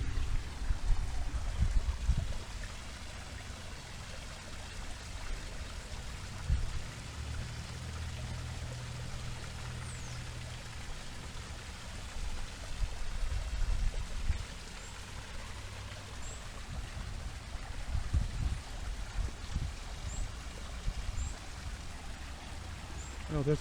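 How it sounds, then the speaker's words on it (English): A small waterfall pours into a little pond with a continuous, moderately close rush of water, steady throughout with slight surges. "Now let's go take a closer look at this waterfall."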